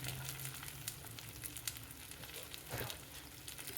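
Steady frying sizzle of okra in a pan, a continuous crackling hiss with a few louder pops, close by and with no voices.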